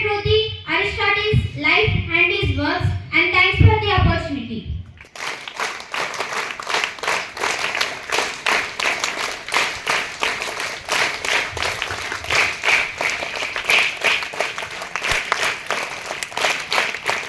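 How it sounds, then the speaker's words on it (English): Audience clapping after a child's speech: a voice first, then a long stretch of steady, lively applause from the gathered listeners, close and even. "clapping."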